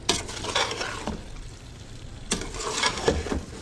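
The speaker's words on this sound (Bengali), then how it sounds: "এখন চাল ভালো করে ভেজে নিব" Rice fries and is stirred in a pan for chicken biryani, with a steady close sizzle broken by scraping stirs near the start and again about two-thirds through.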